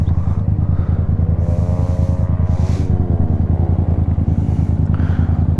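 A motorcycle engine runs steadily and close by as a new rider gently works the throttle, its even rumble swelling slightly with small revs before settling back, with the bike not yet in gear.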